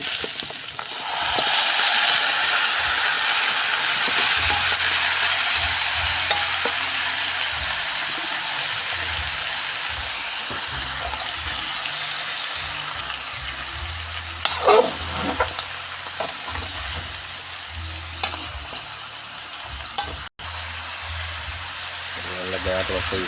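Tender pressure-cooked duck meat hits a hot pan and sizzles loudly and steadily, with stirring and scraping noises and a brief rattle near the middle, for a duck adobo with coconut milk and lemongrass.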